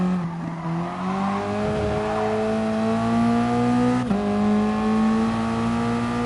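A Toyota race car in a racing video game braking into a corner, its loud, close engine note holding a steady pitch, then dropping briefly at a downshift before climbing again.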